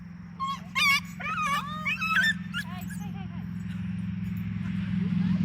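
A puppy whines and cries in high, wavering yelps over a steady low hum, loud at first then trailing off into quieter whimpers.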